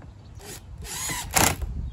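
A power drill drives screws into the housing of a Stihl BG-86 leaf blower, giving two short whirring bursts close by with a brief pause between them.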